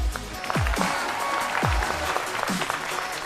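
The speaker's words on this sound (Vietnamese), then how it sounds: "Một tràng pháo tay để cùng chào đón Hiền Sến" A TV dating-show studio audience applauds a guest's entrance with lively clapping, mixed with music and swooping whoops and cheers that rise and fall over the steady applause.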